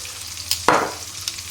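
Salmon fries in a pan, with a brief burst of sizzling and a few soft clicks of a utensil against the pan over a quiet background.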